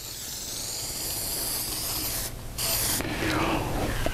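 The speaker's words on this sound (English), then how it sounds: "A little fresh spray of copper coat here." An aerosol can of copper coat sprays in long, steady hissing bursts up close onto a Jaguar engine cam cover, with a short pause between them and quiet tapping in the background.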